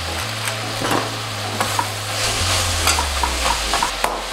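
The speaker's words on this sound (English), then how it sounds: "Now we're gonna finish cooking up the sausage" Sausage fries in a pan with ground sage and black pepper for breakfast burritos. A steady sizzle runs under repeated scraping stirs of a utensil against the pan, with a low hum beneath and no talk.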